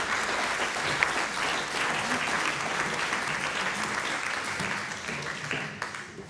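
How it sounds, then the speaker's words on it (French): Dense, steady applause from a sizeable audience, evenly sustained throughout with no pauses, heard from within the room. "On peut les remercier avec une salve."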